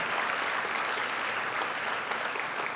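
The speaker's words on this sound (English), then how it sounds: "I think we can give them a clap in absentia here" Audience at a university convocation ceremony clapping in a dense, steady wash of applause that holds at an even level throughout, with no voices standing out.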